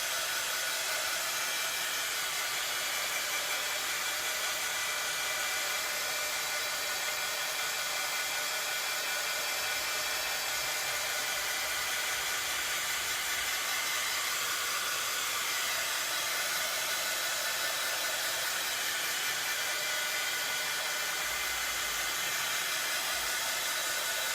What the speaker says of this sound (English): I'm going to bring in my heat tool again and get this all dry.